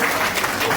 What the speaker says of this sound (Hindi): ताली बजा के ताली।